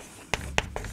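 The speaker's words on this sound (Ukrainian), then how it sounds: "Запишемо відповідь." Pen writing down a math answer on paper, three quick close scratchy strokes in about a second.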